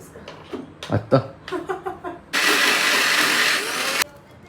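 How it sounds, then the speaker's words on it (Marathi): A kitchen mixer grinder spins soaked urad dal in a short, loud, steady whirring burst of about two seconds, following a woman's speech. "आता मी उडदाची डाळ मिक्सरमधनं पटकन फिरवून घेते"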